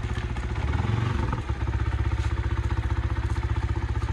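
A motorbike engine idles close by, revving briefly near the start before settling into a steady, rapid chugging pulse with slight clatter.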